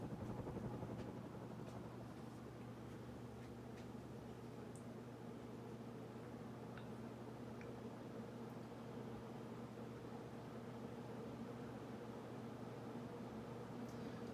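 A KDK Renaissance ceiling fan motor runs on high speed with a faint, steady low hum and a slight moan, continuous and even throughout.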